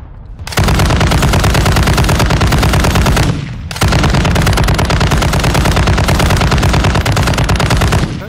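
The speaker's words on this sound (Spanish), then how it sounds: "Están disparando de atrás" Sustained automatic gunfire from a shooter video game, loud and continuous in rapid bursts, with a brief pause around three seconds before the firing resumes.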